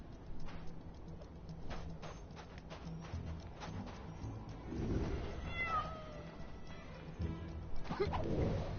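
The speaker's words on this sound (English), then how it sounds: "You're a cat." A cat meows a few times at moderate distance in a game exploration scene, a short rising call standing out over steady background ambience and faint clattering footsteps.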